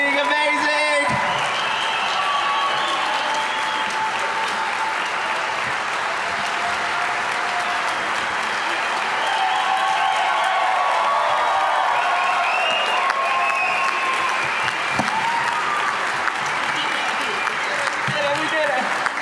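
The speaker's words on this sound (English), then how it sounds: "A big round of applause for the Heartbreakers." A large audience applauds the Heartbreakers at a virtual charity ball, dense sustained clapping with occasional whoops lasting throughout, with talk over it.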